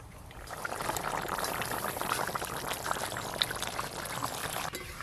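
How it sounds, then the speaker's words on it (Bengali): Chicken and potato curry bubbling in gravy in a pot, a steady close simmering and gurgling wash of liquid that carries on without a break. "এবার আলু আর চিকেন একটু গ্রেভির মধ্যে এইভাবে ডুবিয়ে দেব, সব কিছু ভালো করে সেদ্ধ হয়ে যাবে।"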